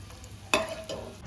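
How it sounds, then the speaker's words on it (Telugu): Green chillies fry in a pan, giving a brief sizzle with a sharp stirring scrape and soft crackles. "పచ్చిమిరకాయలు ఇలా వేయించుకోండి"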